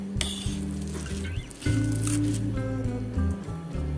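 Wet, squishy mashing of thick cooked dal with a masher, a steady run of soft squelching presses with a low hum underneath, close and fairly loud, no talking.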